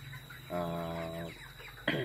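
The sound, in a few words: broiler chickens clucking in a poultry farm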